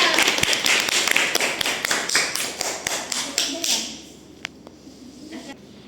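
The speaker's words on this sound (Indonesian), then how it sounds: "Kasih tepuk tangan dulu" Classroom applause for a young pupil praised by the teacher, several seconds of children clapping in quick uneven bursts close by, with voices mixed in, thinning out to a few scattered claps near the end.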